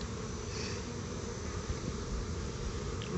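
Honey bees around a hive during a queen replacement, with a continuous close, dense buzzing drone that stays steady throughout.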